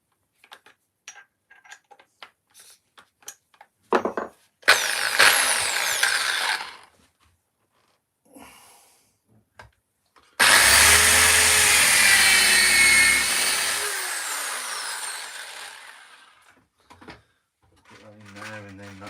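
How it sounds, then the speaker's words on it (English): A power drill whirs into wood while a birdhouse is built, first in short bursts and then in one long, loud run, with clicks and handling knocks around it and a person talking now and then. "Let me just put my drill on here"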